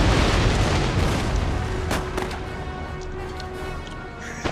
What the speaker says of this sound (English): Epic explosions as they were, but they are making the enemy ships explode